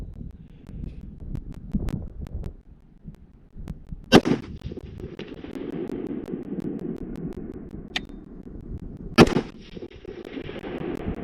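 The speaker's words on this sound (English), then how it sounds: "So I'm just going to shoot it at this steel plate, 300 yards down range" A PSA 10.5-inch AR pistol fires at a steel plate 300 yards downrange: two loud, sharp gunshots several seconds apart, each with a trailing echo, over steady outdoor background noise.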